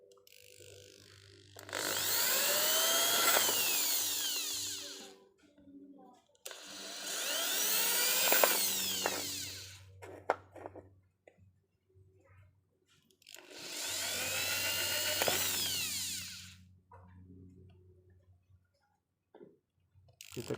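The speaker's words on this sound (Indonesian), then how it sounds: "Kita bor satu-satu teman-teman ya." A power drill bores holes one at a time, giving three whining bursts of about three seconds each, separated by short quiet pauses.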